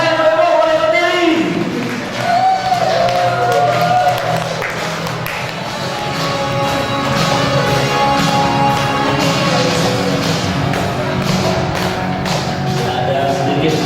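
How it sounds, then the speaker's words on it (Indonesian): An audience gives a standing ovation at an Imopreneur event in Dumai, with steady crowd clapping heard throughout under loud background music and a voice speaking over it. "ayo tepuk tangan yang sangat luar biasa yang boleh berdiri"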